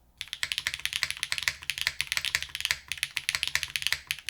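Fast typing on an Ophanim mechanical keyboard with HMX Macchiato switches in a gasket-mounted PCB and Symbiote keycaps: a dense, even stream of crisp keystroke clacks, close and alone.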